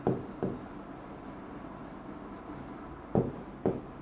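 A pen scratches out figures on paper during a cost-of-capital lesson, with a steady rasp of writing broken by sharper taps and strokes near the start and end, close and unaccompanied by speech.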